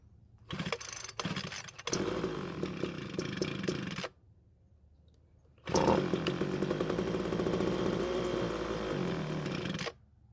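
A Ryobi two-stroke leaf blower, choke on, fires up and runs loud and steady with a high buzzing whine, stops briefly after about four seconds, then roars back into continuous running close by.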